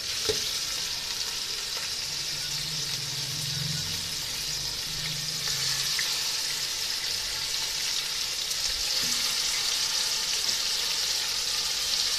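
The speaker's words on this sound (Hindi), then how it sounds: "मैंने देचकी में ऑयल डाल लिया है और उसके बाद मैं बीफ डाल लूँगी और बीफ को थोड़ा सा भून लूँगी लहसुन अदरक के साथ" Beef fries in oil with garlic and ginger in a degchi pot, producing a continuous broad hiss with a few soft knocks and a low rumble early on, moderately quiet and steady, with no one speaking.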